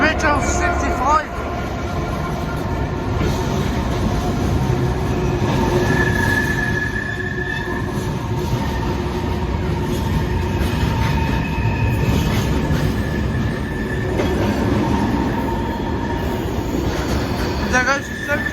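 A Class 66 freight locomotive, number 66501, rolls through Lewisham station with a steady rumbling roar, faint wheel squeal and rail clatter that hold at a constant loudness throughout, while someone speaks over it.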